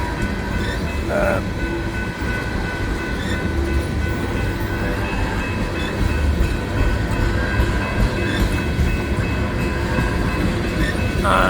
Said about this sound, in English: Now it's a unit train of tankers.